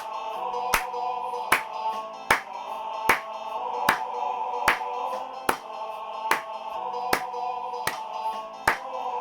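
Single sharp hand claps keeping time along to recorded music during a music lesson, landing evenly about once a second over the steady musical backing, close and crisp.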